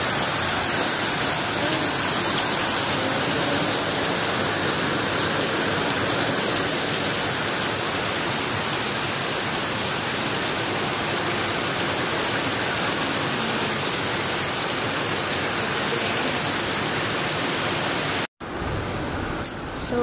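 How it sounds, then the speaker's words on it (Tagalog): Heavy rain pouring down in a dense, continuous roar, loud and unbroken for most of the stretch before stopping abruptly near the end, with a brief faint patch of other sound after it. "Grabe, sobrang lakas ng ulan."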